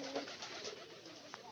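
A pigeon in a tin coop gives a faint, brief coo at the start, followed by quiet rustling and soft background noise.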